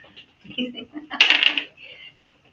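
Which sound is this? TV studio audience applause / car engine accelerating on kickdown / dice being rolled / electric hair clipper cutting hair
dice being rolled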